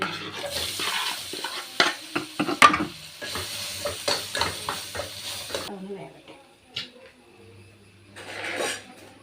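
A potato with salt and fennel seeds frying in a pan: rapid, rhythmic spatula scrapes and clatter over a light sizzle, then quieter frying with a few scattered stirs.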